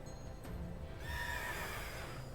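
A horse in the Pokemon Shield video game, Calyrex's steed, gives a single clear whinny that rises and trails off, preceded by a soft hoof clop, with no talk over it.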